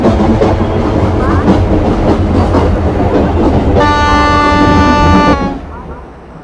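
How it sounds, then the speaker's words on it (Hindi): A train in a railway station simulator game rumbles loudly with steady rail clatter while braking to a stop; a long horn blast sounds midway, then the noise drops away near the end. "यह ट्रेन को रोकने का समय है। अभी ब्रेक लगाना शुरू करें।"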